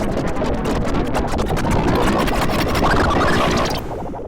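Bio spell effect from Final Fantasy VIII, a dense, noisy, bubbling hiss that surges steadily for about four seconds before thinning out at the end, with no talking.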